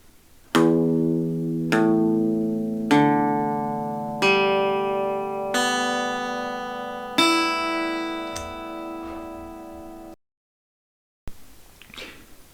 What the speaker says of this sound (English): When you have your guitar in tune, it should sound something like this.